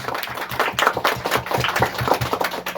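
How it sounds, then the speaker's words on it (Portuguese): A church congregation applauds during an evening triduum service for Our Lady of Sorrows, the clapping a dense, loosely rhythmic patter of many hands at moderate distance, steady for a few seconds. "Aplaudamos a santa palavra de Deus"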